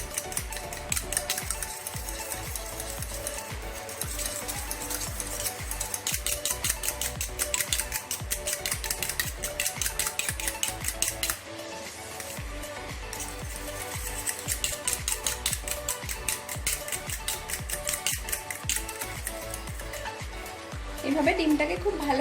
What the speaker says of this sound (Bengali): এবার এই ডিমটাকে আমি ভালো করে বিট করে নেব